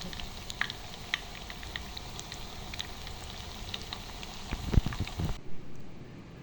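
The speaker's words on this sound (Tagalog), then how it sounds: "Malit lang yung aking pritohan kasi gusto ko deep fry siya. Bawang para ano din sa mantika" Steady crackling sizzle of tortang giniling with garlic deep frying in oil in a small pan, a constant dense fizz with scattered pops, followed by a few soft clunks before it cuts off.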